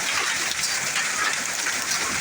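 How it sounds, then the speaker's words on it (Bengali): A dense, constant hiss of hail and rain pelting down nearby, loud and unbroken throughout. "এই যে শিলা বৃষ্টি"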